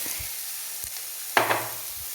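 Chopped chow chow (chayote) hits a hot pan with a short hiss and sizzle, close and clear, after a few faint clinks of a utensil.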